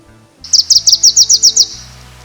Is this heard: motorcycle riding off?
no